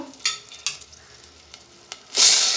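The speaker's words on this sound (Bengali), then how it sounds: "মশলাটা আমি ভালো মতো একটু কষিয়ে নিব" Turmeric, chili powder and salt masala frying in a pan, with a few soft stirring scrapes and a quiet sizzle before a loud burst of hissing near the end.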